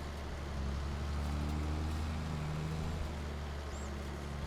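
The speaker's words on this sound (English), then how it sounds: "Maybe it's just a smaller tractor." A smaller tractor drives across grass fields in Farming Simulator 22, its engine a steady, loud, low drone with an even hum throughout and no speech.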